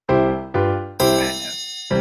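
Ding cueing a face change during a home workout: four bright, ringing chime strikes in quick succession, each clear and resonant with a short decay, heard alone with no talk.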